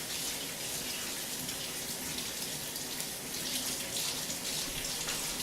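Cold water pours steadily from a tap into a sink during hand washing, an even, unbroken hiss at close range with no voices.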